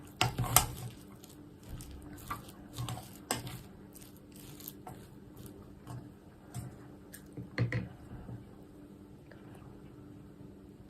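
Cooked Japanese rice being mixed in a bowl, with a few sharp clinks and scrapes of a utensil against the dish spaced across an otherwise quiet stretch, close and fairly soft, with no talking.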